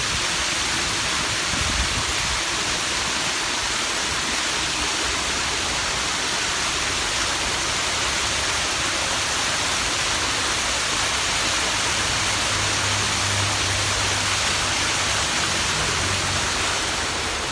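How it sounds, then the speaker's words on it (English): A waterfall at Niles Veterans Memorial, a loud, dense, unbroken roar of falling water close by, steady for the whole stretch with no voices over it. "The waterfall is just so beautiful."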